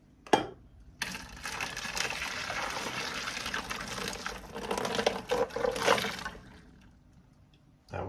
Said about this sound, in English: So what I'm going to do is just pour that straight into my sieve.